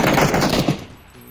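A burst of rapid automatic gunfire in the battle royale game PUBG, loud and dense, cutting off abruptly after about a second into a quiet tail.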